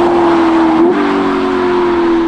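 A Ferrari SF90 Spider fitted with a full Novitec sports exhaust holds a loud, steady engine note close by, with a brief blip partway through before settling back to a constant drone; no one speaks.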